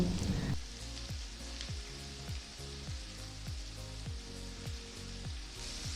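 Marinated chicken frying in a pan with onion and tomato, a continuous soft sizzle heard close, alongside a regular repeating falling tone in the background, with no voices.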